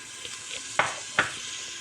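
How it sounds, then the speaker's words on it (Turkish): Onions with homemade pepper paste and tomato paste sizzle steadily in a pan, with two sharp scrapes of a spoon stirring them at moderate volume; no voices. "Soğanla birlikte karıştırıyorum."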